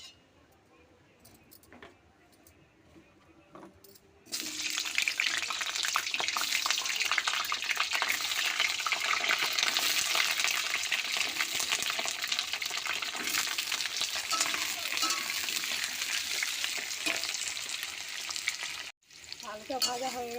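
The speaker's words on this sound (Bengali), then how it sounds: "আলুটাকে প্রথমে লাল লাল করে ভেজে নেব" Potatoes hit hot mustard oil with salt and turmeric, bursting into a loud, continuous sizzle that runs for about fifteen seconds after a quieter opening, with a brief dip near the end.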